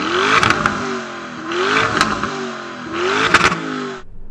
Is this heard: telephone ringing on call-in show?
no